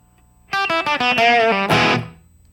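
Distorted electric guitar plays the opening verse riff of a song: a row of quick, punchy chord stabs ending in a brighter accented strum that rings out briefly, loud and close with no talking.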